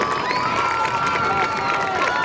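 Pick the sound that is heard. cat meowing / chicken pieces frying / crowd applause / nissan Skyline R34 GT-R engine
crowd applause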